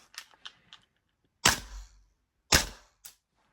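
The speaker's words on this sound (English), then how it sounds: "going to fire a couple of shots through the chrono" Two sharp airsoft shots from a Double Eagle Noveske rifle with a 6.03mm tight bore barrel fire through a chronograph on a January evening, preceded by a few soft clicks and followed by a faint tap.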